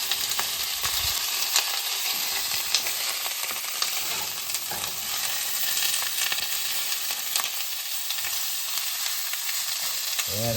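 Half a pound of cut-up cube steak frying in an oiled pan produces a loud, continuous crackling sizzle. Occasional scrapes and pops come through over about ten seconds, up close, with no one speaking.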